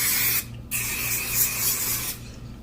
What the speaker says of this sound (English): I'm going to go ahead and use my Aussie hairspray.